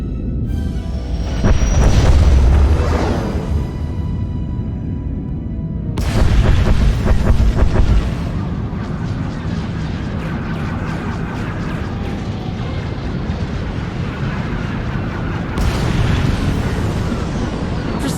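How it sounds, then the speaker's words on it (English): Space bombardment in Star Wars: The Old Republic during an Onslaught assault, heavy booming explosions rolling in repeated surges with a continuous low rumble between them, loud and distant-sounding. "Proceeding with bombardment, targeting all major population centers"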